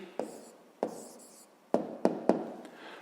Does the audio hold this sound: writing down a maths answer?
yes